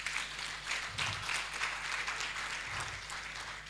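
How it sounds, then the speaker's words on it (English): An audience at a malaria survey report launch gives sustained applause, a fairly soft, even rush of many hands clapping with a low hum beneath it and no speech. "can we give him a very big hand clap?"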